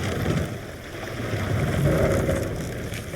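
A Viking sailing ship moves under sail in Assassin's Creed Valhalla, a broad, steady rush of wind and water surging around the hull, close and continuous with no voices.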